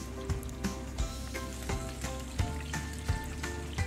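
Potato and pumpkin pieces frying in hot ghee, a steady close sizzle with scattered crackles and soft pops, occasional light clicks of stirring, no talking.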